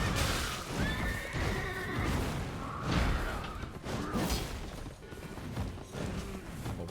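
A horse in the video game Elden Ring whinnies loudly several times over hoof clatter and combat noise, close and prominent with no talk.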